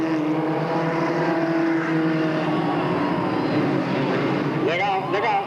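Race cars at a dirt speedway roar steadily and loud throughout, engine drones layered together as the field runs into a corner, with an excited announcer talking over the noise.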